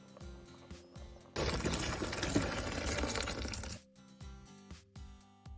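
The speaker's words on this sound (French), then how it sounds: "les lentilles sont déjà prêtes, sont déjà cuites. Maintenant, je vais les égoutter" Cooked lentils are drained, and a burst of rushing, splashing water pours out for about two seconds. Quieter clinks and knocks of cookware come before and after it.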